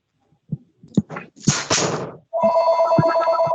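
A telephone bell starts ringing mid-clip during a school building committee meeting and keeps up a bright, buzzing trill to the end, after a few short thumps and a breathy rush of noise.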